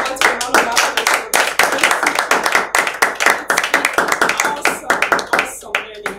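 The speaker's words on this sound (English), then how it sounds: "Please, ladies and gentlemen, let's give a round of applause." A church audience applauds after a sermon on focus. Dense, close clapping runs hard and steady throughout, with loud overlapping hand claps and a faint voice mixed in underneath.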